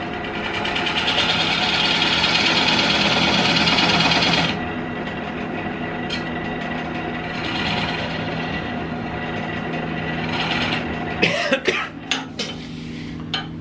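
A Jet 1440 wood lathe turns a eucalyptus bowl while a dovetail is cut, giving a steady motor hum with tool scraping for about four seconds. It then runs quieter, and a few sharp knocks come near the end.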